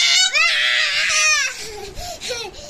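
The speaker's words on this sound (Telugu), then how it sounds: "చూడండి నేను సెల్ ఇవ్వనంటే ఏడుస్తుంది." A small girl cries loudly and close by, a wailing burst followed by shorter whimpering sobs.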